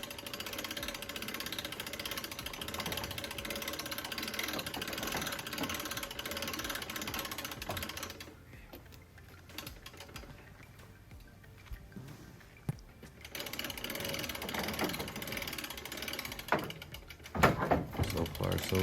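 Block and tackle cranked to lift the box off a 2004 Ford F-250 pickup, giving steady ratcheting clicks and mechanical rattle through most of the stretch, with a quieter gap midway and louder clanks near the end.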